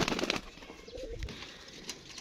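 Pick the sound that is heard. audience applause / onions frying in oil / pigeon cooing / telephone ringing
pigeon cooing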